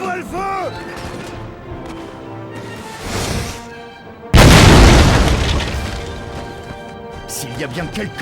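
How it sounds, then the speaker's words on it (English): A sudden heavy cannon boom in the video game Napoleon: Total War hits midway and rolls off slowly, loud against quieter tonal sounds and short sweeping tones before it. "right-click your mouse to order your cannons to attack"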